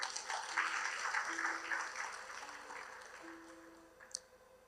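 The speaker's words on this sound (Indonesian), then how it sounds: "Kasih tepuk tangan buat Tuhan kita." A church congregation claps together in a broad, fairly faint wash of applause that gradually thins out, with a faint sustained organ or keyboard tone underneath.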